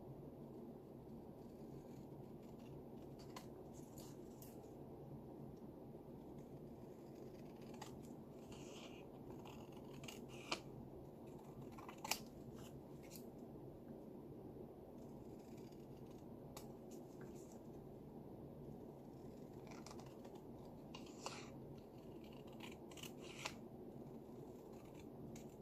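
Paper scraps trimmed with scissors at a craft table, with quiet, sparse snips and small clicks scattered over a long stretch against a faint steady background hum.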